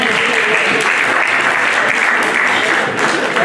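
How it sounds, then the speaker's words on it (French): An audience at a children's live quiz contest in Paris gives a child sustained, loud applause, steady clapping throughout with a voice heard faintly over it. "Applaudissez-le s'il vous plaît."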